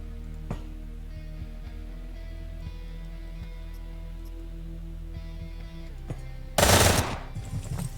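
Gunfire in the video game Quasimorph, a loud, dense burst of rapid automatic shots lasting under a second that erupts near the end over a steady low game hum and faint ticks.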